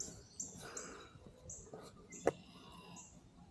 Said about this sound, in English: Why, so many birds.